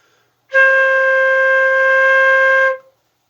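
One steady flute note held for about two seconds, flat and even with no wavering, alone in silence.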